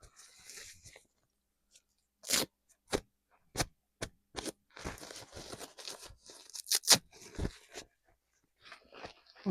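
A preemie diaper being torn open up close, a series of sharp, separate ripping and crackling bursts spaced across several seconds, with quiet gaps between them and no talk.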